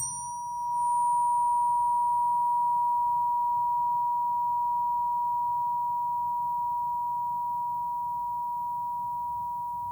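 A pure, steady 963 Hz solfeggio sine tone sustains for the full duration, clean and unwavering, swelling in at the start and fading slightly toward the end over faint background hiss.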